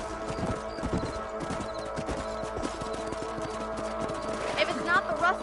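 Horse hoofbeats in Red Dead Redemption clip-clop steadily beneath game music and background noise, a repeating thudding gait at moderate volume.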